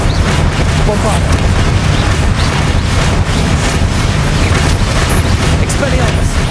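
Bombarda explosion spell in Hogwarts Legacy, a heavy continuous booming blast with rumbling low end and crackling debris, loud and sustained, mixed with shouted voices.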